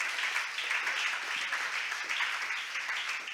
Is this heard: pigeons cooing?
no